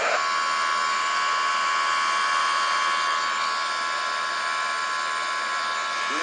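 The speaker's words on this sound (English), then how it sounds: "So we have full takeoff power, takeoff ground power thrust" Airbus A330 jet engines spooled up to full takeoff thrust in Microsoft Flight Simulator, a steady, loud high-pitched whine with a hissing roar, constant throughout and no talking.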